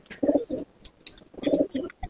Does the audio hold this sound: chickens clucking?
no